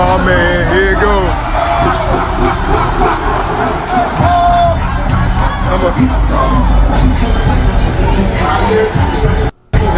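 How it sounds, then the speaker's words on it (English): Stadium crowd roaring during a rapper's halftime show, a loud continuous roar with shouts and cheers rising over it, with voices talking along and a brief dropout near the end. "y'all hear the way that motherfucking crowd was roaring"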